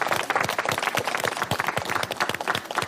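Studio audience applause at a televised singing competition: dense, rapid clapping from many hands, loud and sustained throughout.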